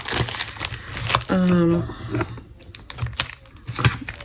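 Crinkly plastic packaging of a Stampin' Up! Paper Pumpkin craft kit being handled and torn open, with sharp crackles and rustles close by, while a voice talks over part of it.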